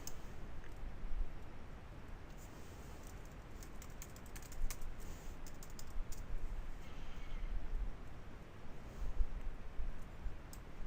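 Rapid keystrokes clatter on a computer keyboard while a username and password are entered, a quiet, close run of uneven clicks and taps with brief pauses and no speech.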